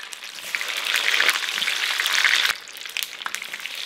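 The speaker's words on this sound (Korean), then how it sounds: "자, 그럼 튀겨 볼게요." Frozen sweet and sour pork pieces dropped into hot oil, a close, bright crackling sizzle that swells and then settles into a lighter steady bubbling, with no voices.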